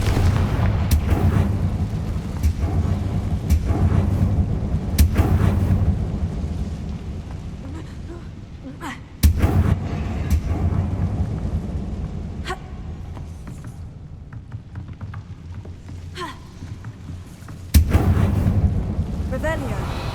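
Fire-spell explosions in Hogwarts Legacy: repeated booming bursts over a steady rumble of game ambience, with sharp loud hits near the middle and again toward the end.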